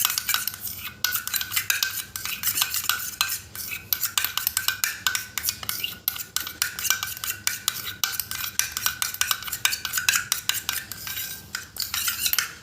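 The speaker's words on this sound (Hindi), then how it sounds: "अच्छी तरह मिक्स कर देंगे" A spoon scrapes and clinks steadily around a bowl while thick strained yogurt is stirred, making fast, continuous, close scraping strokes with no talking.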